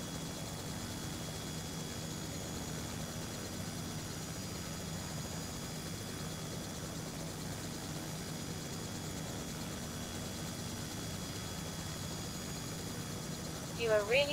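A helicopter engine in a VR rescue-mission simulator game drones steadily at low level, a constant even hum throughout, with a brief blip near the end.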